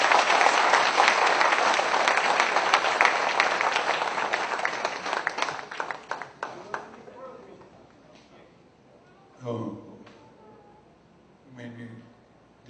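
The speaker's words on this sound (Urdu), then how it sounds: "ایک بار زوردار تالیاں ہو جائے گا" Loud crowd applause at a talk on an inspirational life story fades out over several seconds into near quiet, followed by brief bursts of a voice.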